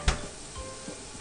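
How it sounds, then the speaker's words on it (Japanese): Tiny dried sardines (chirimen jako) fry with garlic and red chili in oil over low heat, giving a quiet sizzle opened by one sharp knock of the pan, then faint stirring scrapes. "弱火でおじゃこがカリッとなるまで炒めるよ"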